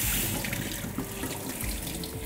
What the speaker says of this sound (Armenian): Եվ հոսող սառը ջրի տակ